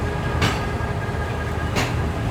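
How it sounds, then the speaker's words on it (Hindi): Power van of a Pakistani express train rolling past, a steady close rumble of wheels and carriages with two sharp rail clacks spaced about a second apart. "ये तो 1000 एक्सप्रेस की पावर वैन है जी"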